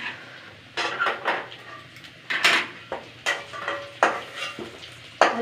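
Fried potatoes scooped out of a hot pan, a series of close metallic scrapes and clanks of a ladle against the pan at irregular intervals over a faint background sizzle, with no talking.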